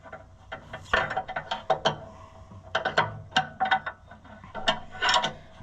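A clamp is loosened with a ratchet on an Allis Chalmers 175 diesel tractor during clutch work, with quick, close clicking ratchet strokes coming in bursts separated by brief pauses, with no talk.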